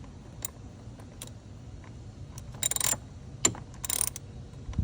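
Ratchet fitted with an 8mm socket and extension turning a bolt on a Ford F-150 3.5L turbo engine, a few short close clicking ratchet bursts over faint background noise, with no talking.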